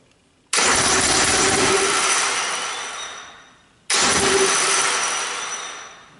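An outboard motor's starter cranks the engine during a compression test on cylinder number 4, in two loud sustained bursts of about three seconds each, separated by a short pause, with no talking.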